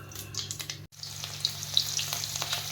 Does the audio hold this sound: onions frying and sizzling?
yes